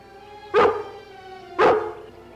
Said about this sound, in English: It's only a dog.